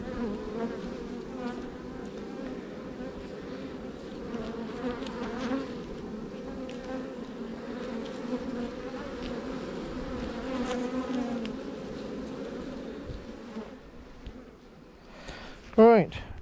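Honey bees hum steadily around an open hive during a nectar dearth, a dense continuous buzz close by with a few louder individual passes, and a brief sharp sound near the end.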